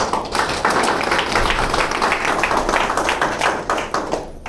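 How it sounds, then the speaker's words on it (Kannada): An audience at a seated gathering in a hall breaks into dense, close applause, many hands clapping at once for a few seconds before tapering off. "ನಿಮಗೆ ನೀವು ಒಂದು ಚಪ್ಪಾಳೆ ಹೊಡ್ಕೊಳ್ಳಿ."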